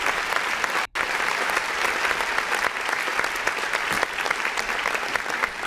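An audience at a live music review show claps continuously and crisply in a steady wash, broken by one very brief dropout near the start.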